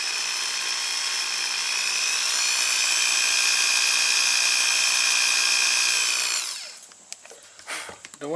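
A Craftsman power drill whines steadily at high pitch for several seconds, then cuts out, leaving a few scattered clicks and handling noises.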